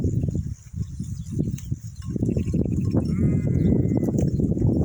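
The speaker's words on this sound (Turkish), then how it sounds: "Yalnız şu koyunlar önümüze geçti arkadaşlar." Several sheep bleat close by, overlapping calls rising and falling over a steady outdoor background.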